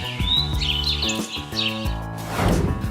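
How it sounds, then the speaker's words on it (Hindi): Small songbirds chirping sweetly inside a parked auto-rickshaw, bright rapid tweets and trills layered over a dense, loud background clutter. "आपके साथ होंगी कुछ मीठी आवाज में चहकने वाली छोटी चिड़िया"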